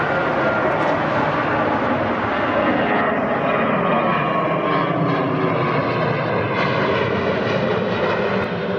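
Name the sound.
United Boeing 737-700 airliner at Newark airport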